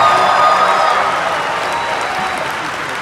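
A convention audience in Las Vegas applauds at a motivational speech, a dense, steady wash of clapping that fills the hall and tapers only slightly over a few seconds.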